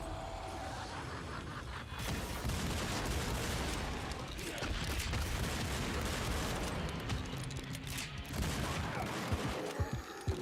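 Paired shotguns fire rapidly in a chaotic video game battle, with dense overlapping blasts, booms and mechanical clatter running continuously and loudly throughout.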